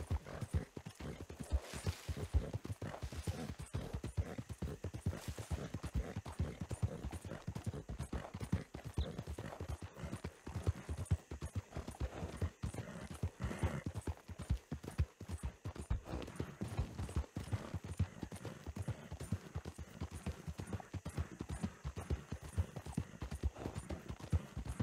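Horse hooves clip-clop steadily through a Red Dead Redemption 2 ride, a continuous near rhythm of hoof falls with a brief whinny-like moment early on, running the whole way without talk.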